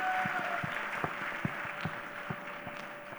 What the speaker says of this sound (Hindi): मैं चाहता हूं आप सभी लोग उनके लिए जोरदार तालियां बजा दें